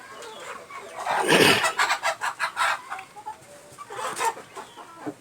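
Chickens in a poultry coop cluck nearby, a burst of loud squawks followed by a rhythmic series of clucks and another short flurry, with no talk.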